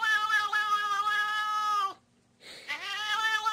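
A cat meows loudly in two long, drawn-out, wailing calls separated by a short pause, close and clear with no talking over it.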